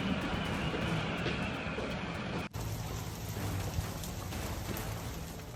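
Dense, roaring typhoon wind and heavy rain in Taiwan pour down continuously, with a brief break in the middle.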